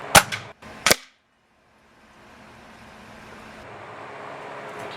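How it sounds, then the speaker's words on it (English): A Ruger .22 Hornet rifle fires outdoors, giving two sharp, loud cracks close together, then a quiet stretch and a faint hum of distant traffic. "Okay, last shot with the Hornet."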